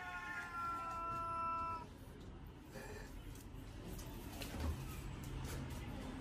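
A cat meows faintly a few times over steady low traffic-like rumble, with no voices present.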